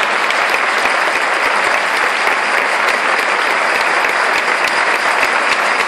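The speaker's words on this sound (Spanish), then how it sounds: "quisiera desde aquí un fuerte aplauso para John por su excelente trabajo" A folk festival audience gives a loud, dense round of applause for an Asturian folk group at the XI Farallón de Tábata festival. The clapping is close and sustained, with no pauses.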